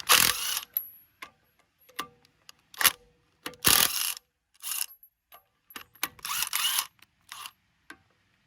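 Ratchet with a chrome socket working on a Lexus IS200 wheel with stock rims while fitting spacers, giving bursts of close clicking and metallic rattling with short pauses between strokes.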